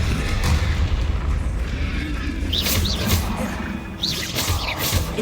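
A Confringo spell explosion in the Hogwarts Legacy video game, a loud booming blast with rumbling impact among sharp chirping spell effects.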